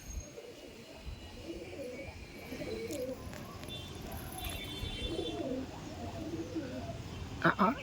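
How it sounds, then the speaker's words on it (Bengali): Pigeons in a loft give soft, low coos at intervals over a quiet background hum, fairly faint and close, with a brief sharp knock near the end. "এই দেখো পায়রাটা"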